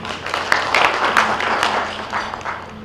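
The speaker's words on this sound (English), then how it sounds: "Clap for them." Audience at a county stakeholder investment forum in Kitui claps in a steady, moderately loud wash of hands, with a few sharper claps rising above before it thins slightly.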